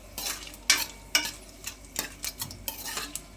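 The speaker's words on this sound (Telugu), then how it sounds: "ఇవి ఫ్రై అయ్యే వరకు వీటిని లో ఫ్లేమ్లో వేగనిద్దాం" Spices, including dried red chilies, fry in oil on a low flame for tomato rice. A faint sizzle sits under close, crisp spoon scrapes and clinks against the pan at an uneven pace. Nobody talks.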